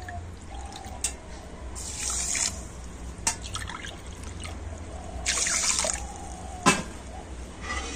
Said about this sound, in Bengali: আর দিয়ে দেবো 2 বাটি জল